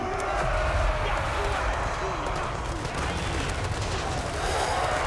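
Massed unit gunfire in the strategy game Total War: Warhammer 3, a dense continuous crackle of volleys under a busy battle din with a voice talking over it.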